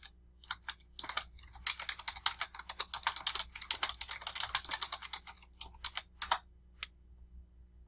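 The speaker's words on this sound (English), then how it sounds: "I can't seem to type today, but I'll do my best." Typing on a computer keyboard: a quick, irregular run of light key clicks, close by and fairly quiet, thinning out to a few last taps and then stopping.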